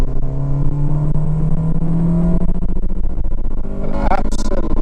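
A Honda Integra DC5 2.0 Type R engine pulls hard under acceleration, its loud, rising induction roar climbing steadily in pitch before a brief dip and surge near the end, heard from inside the car with no one talking.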